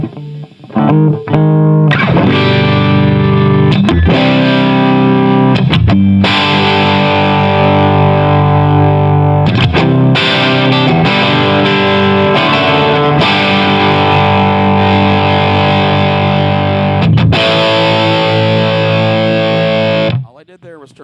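A loud, heavily distorted electric guitar plays through a Granville Super Chief tube amplifier with the volume fully up, sustained chords and riffs with a few short breaks between phrases.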